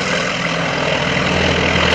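A 1,425-horsepower trainer airplane engine with short exhaust stacks rumbles loud and steady, a deep continuous roar with no break or voice.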